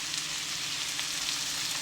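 Washed dried fish frying in oil with garlic and onion, giving a steady, even sizzle that holds at a moderate level for the whole short stretch, with no talking.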